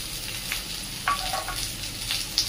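Curry leaves and sliced onion fry in hot oil for an onion chutney, a steady close sizzling hiss broken by a few sharp crackles and pops, with no voices.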